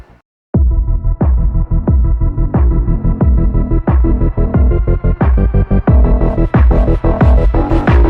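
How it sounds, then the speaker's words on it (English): A continuous laser cleaning machine runs on a factory floor, giving a loud, steady hum broken by a rhythm of repeated throbbing pulses that grow busier toward the end, with no talking. "The continuous laser cleaning equipment provides a laser output"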